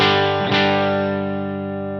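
One clean electric guitar chord through a compressor on a Line 6 HX Stomp, struck once near the start with a second strum around the half-second mark, then ringing out smoothly and slowly decaying.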